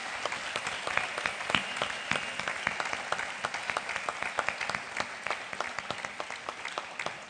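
Steady applause from a crowd, many hands clapping continuously at a moderate distance, with no pause or voices standing out.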